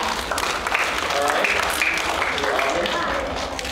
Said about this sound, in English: So everybody give yourselves a clap.